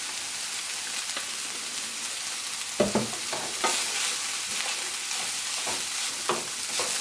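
Millet and vegetable stir fry sizzles steadily in hot oil, a dense, close hiss broken by scraping and clicking as the pan is stirred, with no voices.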